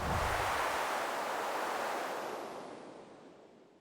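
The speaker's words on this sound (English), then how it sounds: "there's some cool waterfalls" Waterfall in the game ARK on the Ragnarok map, a dense, steady rushing roar of falling water that stays loud and then slowly fades.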